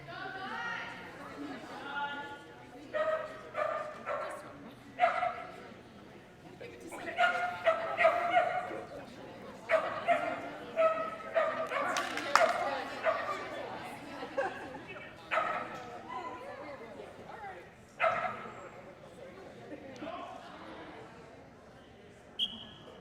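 An American Hairless Terrier barks and yips in scattered bursts at dog agility team tryouts, sharp calls rising over crowd chatter and arena noise, with people talking throughout.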